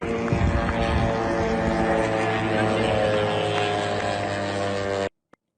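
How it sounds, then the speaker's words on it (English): A kamikaze drone flying deep inside Russia near Kirovo-Chepetsk gives a loud, steady droning engine buzz with a layered tonal hum that holds constant and then cuts off abruptly into silence. "This is a looted drone flying somewhere deep inside Russia."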